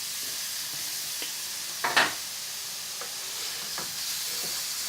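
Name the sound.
prawns and spices stirred in a pan on low heat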